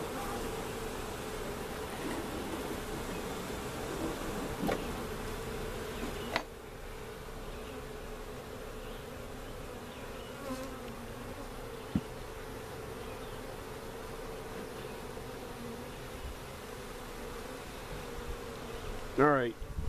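Small honeybee swarm fanning, a continuous close buzzing hum with occasional louder individual bees passing near.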